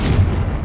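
Confringo blasting spell explosion in Hogwarts Legacy, a single loud, heavy boom with a deep rumbling body that fills the short moment.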